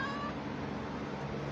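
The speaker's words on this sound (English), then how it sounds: "You want to say meow?" A pet cat named Tanner lets out a single drawn-out meow, close and clear over a low steady room hum.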